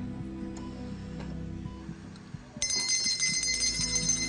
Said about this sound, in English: And can I have the bell now, please?